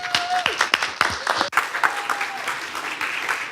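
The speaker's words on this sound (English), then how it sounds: "Please join me in giving a warm round of applause for Katie Kaizer" Audience applause welcoming a speaker at a talk, scattered clapping that grows into a steady patter, with a few voices and cheers audible, moderately loud.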